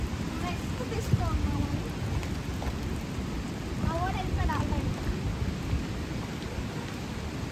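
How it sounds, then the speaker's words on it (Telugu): Heavy rain pours down steadily at a Goa resort while thunder rumbles low underneath, and a few brief voices and chirps cut through the constant downpour. "వచ్చాము కానీ ఫుల్ వర్షం పడుతుంది"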